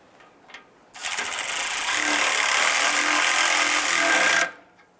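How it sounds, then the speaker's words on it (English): A power tool tightens a nut on the oil pan of a 2002–2008 Dodge Ram 1500 pickup, a sudden loud, close whirring burst lasting about three and a half seconds before cutting off, with quiet before and after. "We can go back and tighten down the nut on the back side of that pickup."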